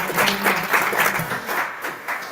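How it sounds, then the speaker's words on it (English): A crowd at a security summit gives the participants a sustained round of applause, full and fairly close, slowly easing off toward the end. "let's give a round of applause to every single participant"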